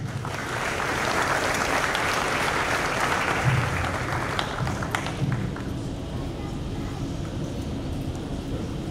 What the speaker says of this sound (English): A round of applause for our perfect attendance and all of our principal awards